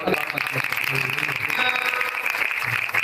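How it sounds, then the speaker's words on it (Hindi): Congregation applause at a Sunday worship service in a church hall, a steady dense wash of clapping sustained throughout with some background voice and music underneath. "जोरदार ताली।"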